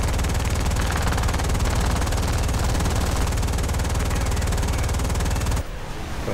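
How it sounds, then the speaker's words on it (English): An aircraft's machine guns in War Thunder air arcade combat, flying a Bf 109 A: one loud, unbroken stream of rapid fire over a steady engine drone, cutting off abruptly near the end. "Go ahead and burn up our guns."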